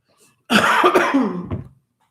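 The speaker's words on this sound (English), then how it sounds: "I still have my cough" One harsh, throaty cough bursts out close and loud after a brief quiet, followed by a short trailing catch before silence returns.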